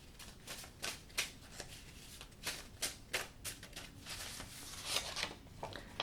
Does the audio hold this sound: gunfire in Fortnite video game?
no